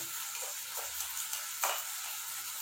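Peas and carrots sauté in a pan, giving a soft, faint sizzle with occasional light scraping stirs and small bursts of crackle, no voices over it.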